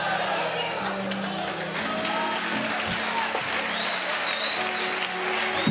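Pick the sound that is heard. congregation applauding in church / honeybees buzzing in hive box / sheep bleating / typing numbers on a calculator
congregation applauding in church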